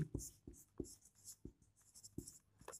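Someone writes on a board in a quiet room: faint, rhythmic strokes and taps, roughly seven in quick succession, with no talking over them.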